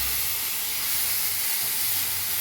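Tomatoes roast in a hot pan while being stirred, giving a close, continuous hiss and sizzle at an even level throughout.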